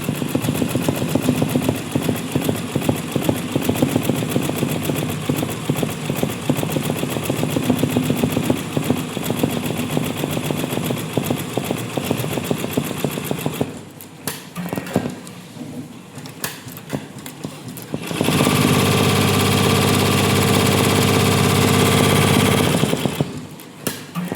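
A computerized embroidery machine stitches mirror work in a fast, loud, rattling run of needle strikes, stops briefly, then restarts with a steadier, denser mechanical hum. No one speaks.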